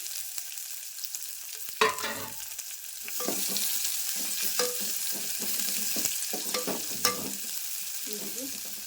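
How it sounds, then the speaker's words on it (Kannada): Long-sliced onions frying in oil in a pan for aloo bhaji, a close gentle sizzle with intermittent scraping stir strokes and a couple of sharper utensil knocks, no talking. "ಉಳ್ಳಾಗಡ್ಡಿ ಸ್ವಲ್ಪ ಫ್ರೈ ಆಗಬೇಕು ಅರ್ಧ ಭಾಗದಷ್ಟು ಫ್ರೈ ಆಗ್ಬೇಕು"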